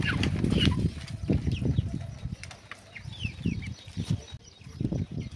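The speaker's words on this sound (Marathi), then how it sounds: "हे बघा सर, आता आपण कोंबड्या उघडतो." Chickens released from a small rooftop coop on a terrace farm, clucking and squawking close by with bird chirps and a few wing flaps in a continuous, busy jumble.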